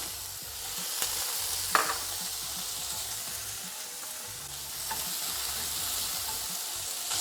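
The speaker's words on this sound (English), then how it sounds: "So first thing I'm gonna do is I'm gonna add those diced tomatoes." Diced cherry tomatoes fry in olive oil in a pan for a low-carb breakfast burrito, giving a soft, steady hiss and sizzle with a few faint stirring knocks, close but fairly quiet.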